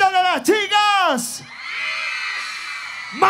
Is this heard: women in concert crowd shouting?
yes